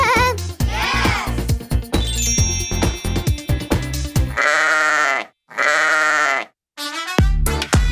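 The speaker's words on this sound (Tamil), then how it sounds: "செம்மறியாடு இப்படிதான் அலறும். பே, பே." Sheep bleat in a children's farm-animal song: two long, loud, wavering baas that follow a stretch of bright music, then the music picks up again.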